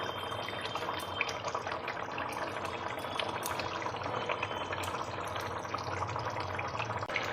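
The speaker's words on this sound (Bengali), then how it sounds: "মাছগুলো দিয়ে আবার 2 থেকে 3 মিনিট আমি ফুটতে দেব।" Catla fish kalia, a Bengali fish curry, simmers in a pan with a continuous close bubbling and gurgling that stays even throughout, with no speech.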